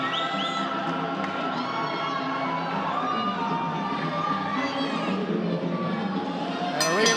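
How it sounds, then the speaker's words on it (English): A large, noisy crowd at a boxing club fight night cheers and shouts steadily throughout, with children's voices among the din and a brief sharp burst near the end. "there's a large contingent here to cheer him on"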